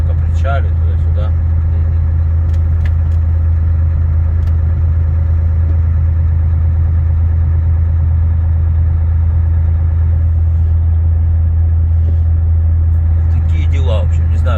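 Volvo FH 540 truck rolling slowly across a frozen river ice crossing on the Lena, a steady low engine drone and cab rumble heard from inside, with a voice talking over it.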